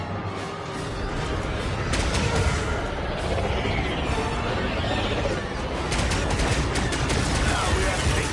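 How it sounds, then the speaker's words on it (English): Heavy gunfire striking a ship during a space battle in the Star Wars Outlaws video game, a dense, continuous barrage of rapid blasts and impacts, loud and sustained throughout. "Now we are taking fire"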